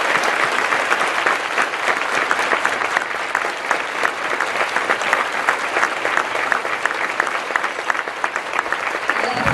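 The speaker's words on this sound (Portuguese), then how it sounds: "E por isso vamos saudá-los com um aplauso" A church congregation applauds steadily in a large hall, a dense, even wash of many hands clapping that holds at full strength for the whole stretch with no talk on top.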